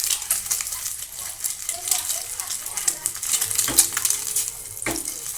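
Boiled eggs frying for egg biryani, stirred around a pan so they don't stick; a hissing sizzle runs throughout with a couple of clear metallic clinks of the utensil near the end.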